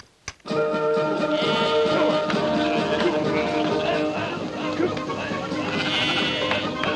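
A flock of sheep bleats loudly and continuously as the animals are driven through on an Australian sheep station, many overlapping calls, with people shouting over them.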